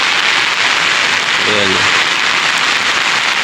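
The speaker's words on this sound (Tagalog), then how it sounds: "laging umuulan" Steady hiss of heavy rain pouring down close by, with a voice briefly speaking over it.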